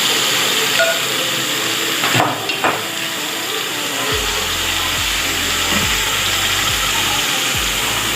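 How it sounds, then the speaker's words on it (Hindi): Marinated chicken frying in a pan for chicken Manchurian, a steady loud hiss and sputter throughout with a few low knocks and clatters, no talking. "ये देखें चिकन हमारी मैरिनेट हो गई, इसमें हम डाल के इसको फ्राई करेंगे।"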